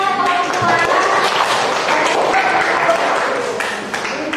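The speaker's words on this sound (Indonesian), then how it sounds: "Silakan tepuk tangannya." Students in a classroom clap together after a group presentation on bullying, a brief burst of dense, close applause that tapers off near the end.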